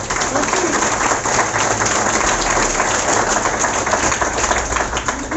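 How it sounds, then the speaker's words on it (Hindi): A large seated audience at a motivational seminar in Banaras claps for itself in a loud, dense, sustained burst of applause that holds steady and close throughout with no talking. "अगर आपको किसी ने यहाँ पर बुलाया है तो आप अपने आप के लिए एक जोरदार ताली बजा लीजिए"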